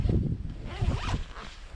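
A zipper is drawn open along the large carrying case of a TIDEWE Occult hunting blind, giving a close, continuous rasping pull of nearly two seconds that eases off toward the end.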